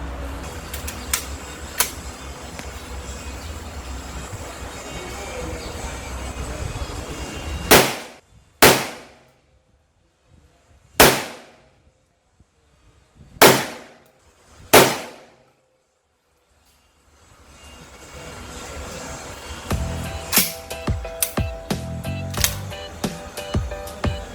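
A revolver and a shotgun are fired at a target outdoors: five sharp, loud shots ring out with uneven gaps, each decaying quickly. Quieter handling noise and background sounds come before and after the shots.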